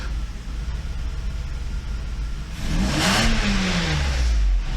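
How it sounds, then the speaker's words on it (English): A Mercedes S600 engine revs up after repair, its pitch climbing as it accelerates, loud and close, ending in a strong roar. "This acceleration is so much better than it was before. It just revs very happily."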